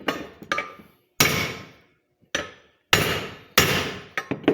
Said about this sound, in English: I take a hammer, and you kind of figure out where you gotta smack it.